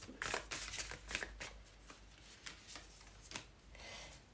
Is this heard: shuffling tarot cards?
yes